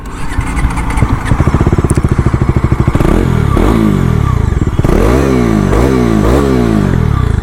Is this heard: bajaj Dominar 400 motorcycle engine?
yes